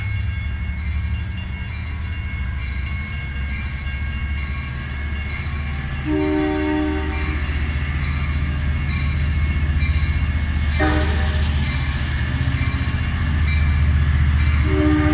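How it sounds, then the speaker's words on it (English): A train rumbles past loudly and continuously, with a horn sounding briefly twice over the steady rolling noise. "So I guess you'll see the train in a second."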